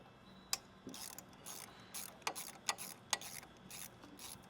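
A ratchet wrench fitted with a 7/16 socket loosens pipe clamps on a Powerstroke diesel, making quiet, close, irregular bursts of quick clicking with short pauses between strokes.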